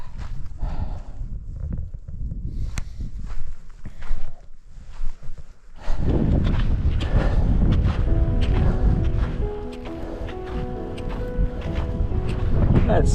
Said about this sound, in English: That smoke is really blowing back in again. It's a strong wind though.